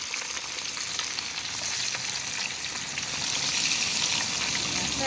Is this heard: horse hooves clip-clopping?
no